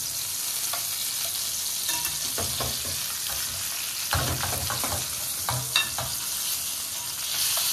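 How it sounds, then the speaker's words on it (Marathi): Surmai (kingfish) fries in a pan, giving a constant loud sizzle as the pieces are turned, with scraping knocks and bursts of crackling and no speech. "आता आपण इथे सुरमई फ्राय करून घेतो. आता हे ना मी आता एक साइड झाली असेल ना, आपण परतून घेऊया."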